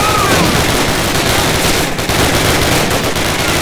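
Dense, continuous automatic gunfire and bursts of shooting from a Call of Duty battle at Brecourt Manor, loud and sustained throughout with no pauses.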